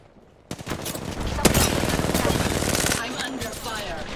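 Gunfire from the Apex Legends video game erupts after a quiet start, loud rapid automatic bursts packed into a continuous rattling stream, with a sharp crack midway and fainter shots trailing at the end.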